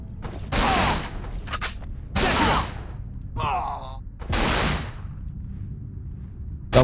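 Gunfire in the video game Cold Fear: a few sharp, loud bursts spaced a second or so apart, with short metallic mechanical noises between them and a final abrupt hit at the end, no speech.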